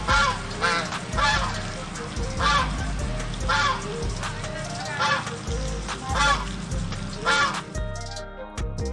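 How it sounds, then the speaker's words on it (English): A duck honks and quacks loudly and repeatedly in regular, nasal bursts, close up and alone. "Duck sound, quack."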